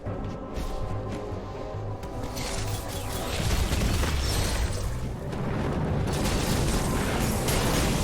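Enemies in Metroid Dread blow up with loud, rumbling booms over a dense game soundscape, the blasts swelling into sustained roaring bursts in the second half.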